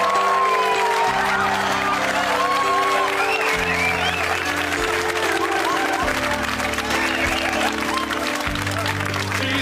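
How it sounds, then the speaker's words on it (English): Studio audience applause and cheering on a 1991 British TV comedy variety show, dense and steady throughout, with music playing underneath. "A big round of applause, once again,"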